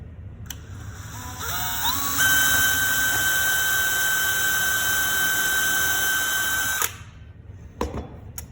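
A power drill bores a hole through planter wood, its motor whining steadily at close range for about four and a half seconds before cutting off, with a short clatter after it stops.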